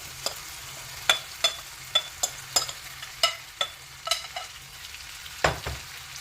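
Chicken pieces coated in batter cook in hot oil in a pan for pan-made tandoori chicken, with a steady sizzle broken by repeated sharp clinks and scrapes of stirring.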